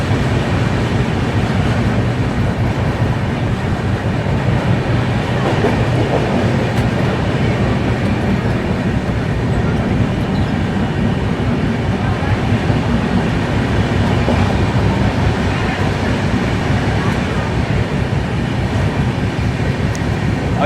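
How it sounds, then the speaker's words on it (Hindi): A Rajdhani Express from Delhi to Secunderabad runs at speed through Gwalior Junction on the main line. A loud, continuous rumble of wheels and carriage noise is heard from on board throughout, with no break. "ग्वालियर जंक्शन को मेन लाइन से हम लोग स्किप मार रहे हैं"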